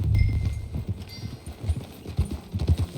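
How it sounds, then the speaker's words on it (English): Horse hooves clip-clop in a steady, lively rhythm while riding in the open-world western game Red Dead Redemption 2, close and fairly loud, with low rumbling ambience beneath. "That a new horse?"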